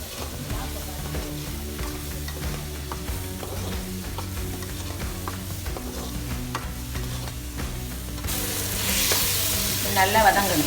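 Chopped tomatoes sauté in a pan for Nagercoil-style beef curry with a continuous close sizzle. Repeated scraping stir strokes run through it, and the frying hiss grows louder toward the end.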